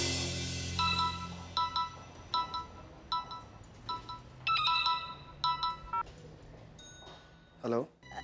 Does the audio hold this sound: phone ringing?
yes